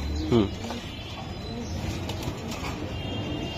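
A male pigeon gives a short, low coo at a pigeon market, near and brief against a background of murmuring voices and faint bird chirps.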